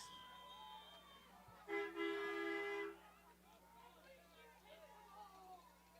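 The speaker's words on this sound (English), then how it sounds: "I don't know why they're blowing the train horn on a fumble recovery." A train horn sounds once at a junior varsity football game, a single loud steady blast of about a second over faint crowd murmur and a constant background hum.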